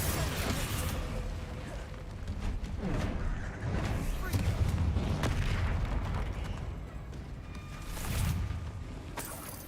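Repeated Confringo spell explosions in a wizarding video game, heavy booms and bursts landing one after another over dense, continuous battle noise, with a voice calling out between blasts.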